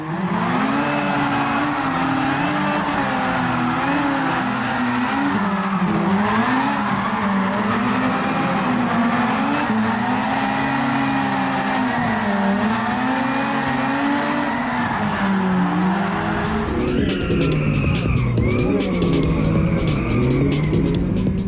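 A car drifts in a racing video game, with a steady engine drone and squealing tires running continuously and loudly throughout, shifting to a harsher, brighter tone near the end.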